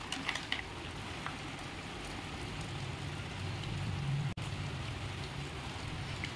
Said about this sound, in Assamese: বাহিৰত বহুত বেছি বৰষুণ দি আছে